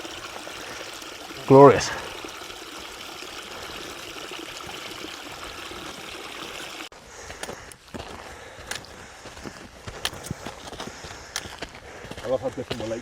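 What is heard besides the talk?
mountain stream running in the Scottish Highlands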